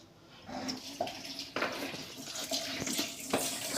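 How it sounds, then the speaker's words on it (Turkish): Dishes washed under running tap water in a kitchen sink at home, a steady splashing stream broken by clinks and knocks of dishware, close and moderately loud. "Şimdi de bu tarafı yıkama arkadaşlar"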